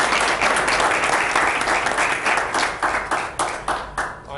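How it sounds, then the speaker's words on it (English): An audience at a school board meeting applauds, a dense burst of clapping that thins into scattered individual claps toward the end. "so we can have a round of applause for her"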